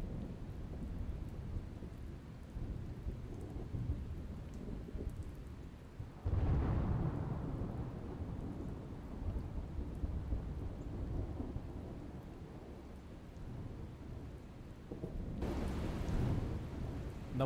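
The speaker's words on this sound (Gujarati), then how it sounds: "ભારે પવન સાથે ડાકોરમાં છૂટોછવાયો વરસાદ પડ્યો હતો." Heavy rain lashing down with strong gusting wind during Cyclone Biparjoy in Dakor, Kheda district, Gujarat, a steady broadband roar that surges suddenly louder partway through and again near the end, with no voices.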